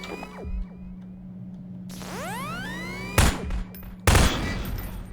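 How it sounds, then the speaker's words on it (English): Gunfire in Half-Life 2 Episode 2 shooting a device stuck to a Strider: two sharp, loud shots about a second apart after a rising whirring sweep, over a steady low game hum. "Now, take out the firearm of your choice and shoot the device."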